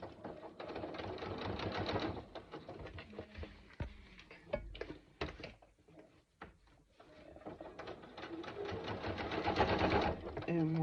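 A domestic sewing machine chain-pieces zipper panels for a backpack, running in bursts of rapid stitching with brief pauses and small clicks and handling noises between runs, close by with no talking.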